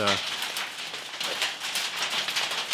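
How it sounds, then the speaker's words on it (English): Outdoor hail makes an even, crackling patter that fills the whole stretch, with a short burst of speech at the very start. "Yeah, that's hail."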